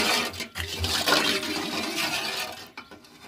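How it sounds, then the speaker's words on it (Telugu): Water pours into a pan for making kesari, a close, splashing gush that swells and runs on for a few seconds with a couple of sharp clatters. "కేసరి వాటర్ పోసుకుంటున్నాము"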